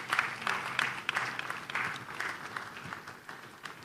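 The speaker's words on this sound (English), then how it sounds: "Please, let's give him a round of applause." A conference audience at a trade and investment forum applauds a speaker, a crowd of claps starting strong and gradually fading toward the end, heard alone without talk.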